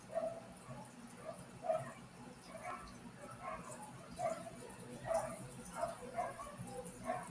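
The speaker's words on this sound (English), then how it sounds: "The dogs are going nuts" Several dogs bark repeatedly in short, uneven bursts of yips and woofs, fairly faint and somewhat distant against a quiet background hum.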